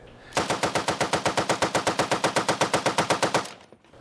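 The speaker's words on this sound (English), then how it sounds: "This is the M60 E3 light machine gun. It's a belt-fed, gas-operated, air-cooled, fully automatic weapon that fires at 550 rounds per minute." An M60 E3 belt-fed, gas-operated, air-cooled light machine gun fires a single sustained fully automatic burst of roughly two dozen evenly spaced, loud, close shots lasting about three seconds, ending abruptly with a short echoing tail.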